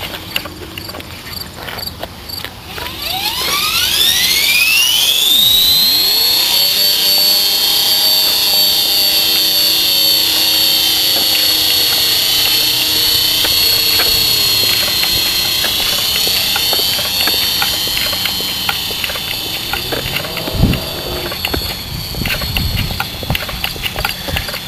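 A radio-controlled model aircraft with a dynamic stabilizer flies outdoors in a light breeze, its motor whine rising sharply after a few seconds and then holding a loud, steady high pitch, shifting slightly as it passes, with faint wind rumble beneath.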